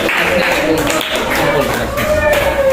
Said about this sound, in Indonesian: berikan tepuk tangan lagi buat kelompok 2